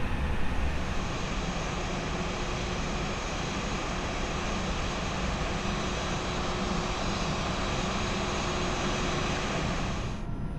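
Airbus A320 jet engines in the X-Plane 11 flight simulator, a steady, even drone heard from inside during taxi to runway 35 left, continuous and moderately faint, cutting off abruptly at the very end.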